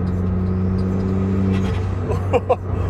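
A Honda Brio Turbo engine drones steadily from inside the cabin, then its pitch shifts as the driver presses the throttle harder, with a brief voice near the end.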